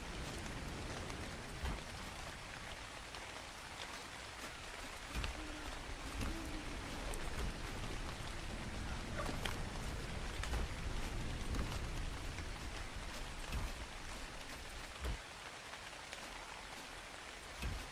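Steady rainfall in Minecraft, a continuous hiss of drops pattering on surfaces with occasional louder splashes and a faint low rumble, quiet and unbroken for the whole stretch with no voices.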